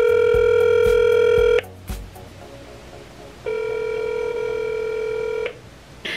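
Electronic phone tones: a dialing beep sequence, then a long steady ringback tone, then another tone burst after a pause, fairly loud with no talking.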